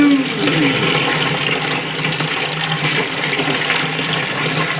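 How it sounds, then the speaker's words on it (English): Tiger's eye stones from a rock tumbler barrel are rinsed under running water, making a steady, close rush of flowing and splashing water throughout. "And give these stones a little rinse"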